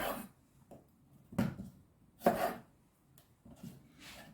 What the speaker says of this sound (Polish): A ja w międzyczasie biorę się za krojenie cebuli.